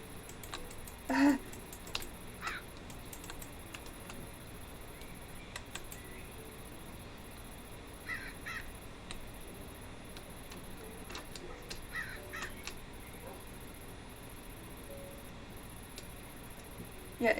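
A crow caws in a video game, giving a few scattered, fairly faint calls spread over a steady low background hiss with occasional small ticks.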